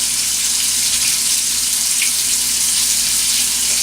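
Burger patties seasoned with barbecue rub frying in a pan, a steady loud hiss of sizzling that holds constant throughout with no talking.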